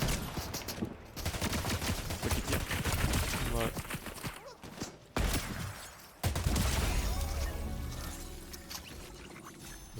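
Rapid gunfire bursts from a Fortnite match fill the mix, loud and dense, with brief gaps and a sharp return near the end, while players chat over the shooting.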